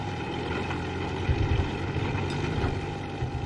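Car engine overheating and labouring hard while climbing a mountain road, a steady low droning rumble that holds continuously and fairly loud, with a faint whine above it and no voices.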